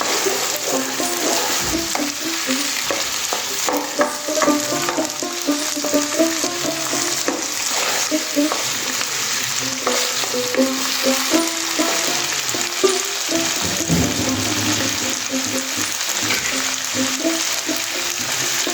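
Chopped garlic fries with sliced onions in a pan for chilli chicken, giving a steady close sizzle broken by frequent stirring scrapes and light utensil knocks throughout.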